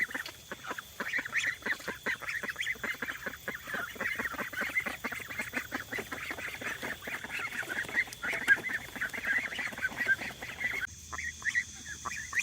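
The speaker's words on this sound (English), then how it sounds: "You tell those ducks where to go." Ducks and hens are herded in for the night, a dense, continuous chorus of honking and quacking fowl close by, steady throughout with a slight drop near the end.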